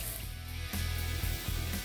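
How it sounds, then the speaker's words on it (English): A car is spray painted in a paint booth, a steady loud hiss of the spray gun with a low hum underneath that swells slightly partway through, continuous with no voices. "So we're gonna spray it, everything looks good."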